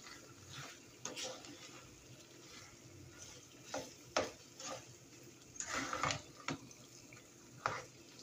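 Spoon strokes scrape and swish through a sizzling vegan meat sauce of Lightlife vegan crumbles, onion, garlic and canned tomato for spaghetti, with several louder stirring bursts over a soft, steady fry. No one talks.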